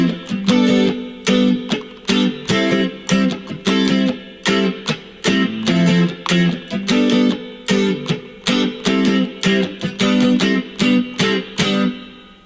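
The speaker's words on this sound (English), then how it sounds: "Now the last thing we're going to have to do is the ending strumming" Guitar strumming the ending pattern of a song, steady down-and-up chord strokes in a repeating rhythm, loud and close with no voices.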